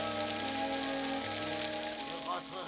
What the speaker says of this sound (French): Il pleut. En plus, je vais être trempé.